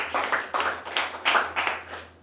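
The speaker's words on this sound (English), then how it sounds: "Give him a round of applause," Comedy club audience at a stand-up show bursts into applause in several rolling waves of clapping, moderately loud and close, with no talk over it.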